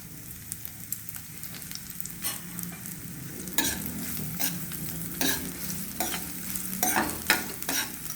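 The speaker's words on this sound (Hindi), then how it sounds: "अब हम इसमें ये प्याज डाल देंगे" Onions sizzle and fry in hot ghee with mustard seeds, a steady close crackle running throughout with stirring scrapes and louder bursts, no voices.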